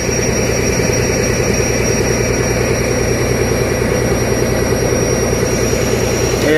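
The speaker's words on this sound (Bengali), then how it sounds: "এই আমাদের ট্রলার চলছে" A trawler boat's engine runs under way with a loud, continuous low drone and a steady mechanical throb, unbroken from start to finish.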